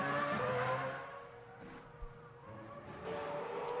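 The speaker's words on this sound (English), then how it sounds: "Into the pits comes the McLaren." A McLaren Formula One car at the 2006 European Grand Prix at the Nürburgring comes into the pits, its high whining engine note falling away and then rising again.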